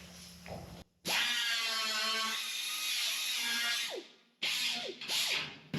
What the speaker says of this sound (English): This is a very special 2-in-1 tool, hammer, air grinder.